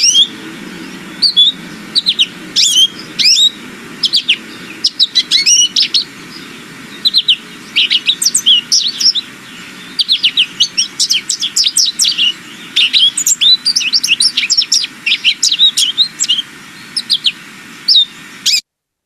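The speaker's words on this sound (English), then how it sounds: "This is an example of a song of a male American goldfinch" A male American goldfinch sings, bright rapid twittering phrases of varied chirps and warbles repeating in bursts, loud and close, against a faint low background hum with no voices.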